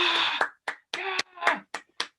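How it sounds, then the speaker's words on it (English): One person clapping as applause during a video call, a short run of sharp, close claps in uneven bursts with brief gaps between them, with no talk over them. "let's give that a round of applause"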